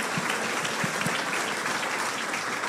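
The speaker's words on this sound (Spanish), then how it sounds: "dale un fuerte aplauso si lo has entendido" A church congregation breaks into strong applause, a full, even roar of many hands clapping steadily throughout, with a few louder individual claps near the start.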